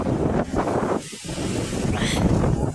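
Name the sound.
strong wind blowing against the microphone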